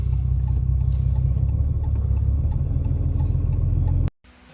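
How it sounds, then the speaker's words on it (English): Datsun 510 car pulling into a shop, a steady close engine rumble with faint ticking that runs for about four seconds, then cuts off abruptly to near quiet. "we are now pulling into the shop"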